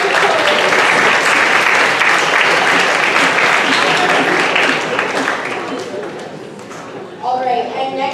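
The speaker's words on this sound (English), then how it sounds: "Let's applaud the poets." A crowd applauds poets at a high school spoken word competition, loud dense clapping that fades toward the end before a voice begins speaking.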